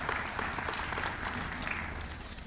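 Audience clapping at an Essex County Freeholder meeting, a moderate, fairly distant round of applause that continues evenly for a couple of seconds, with faint murmuring underneath.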